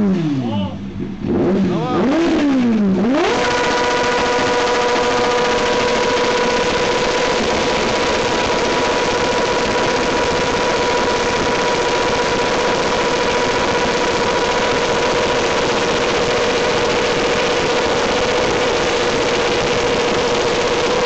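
A sport motorcycle engine revs up to a high, steady roar held loud and close for a long stretch after a couple of brief rising blips.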